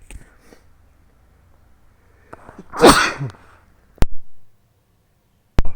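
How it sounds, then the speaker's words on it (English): A single sharp human sneeze bursts out close to the microphone in an otherwise quiet room, followed by a couple of faint clicks. "I tried to mute the mic before I sneezed."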